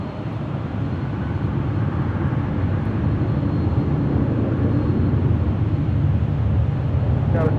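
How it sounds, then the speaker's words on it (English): A Southwest Airlines Boeing 737-700 jet at LAX gives a steady, loud, broadband roar that holds evenly throughout, with no talk. "That is Southwest Airlines flight 856 heading to SFO at the 737-700."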